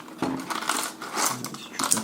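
Plastic keycaps from a full 104-key keyboard set with numpad spill out of a package in a dense, rattling clatter lasting about two seconds, many small clicks overlapping close by with no talk.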